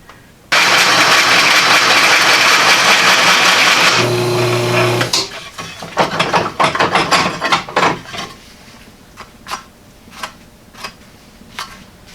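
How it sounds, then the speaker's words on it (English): Dull hole saw grinding through a rusty Jeep Wrangler YJ front frame rail, a loud steady whine for several seconds, then uneven bursts and clatter as the tool stops and starts. "After a lot of cutting on my dull hole saw I got it here"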